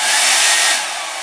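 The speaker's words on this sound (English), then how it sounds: "I'm going to take my wife's hairdryer and I'm going to heat these stickers up" A small hair dryer on high blows with a loud, steady airy whoosh up close, heating stickers on a tool box, then drops to a softer setting near the end.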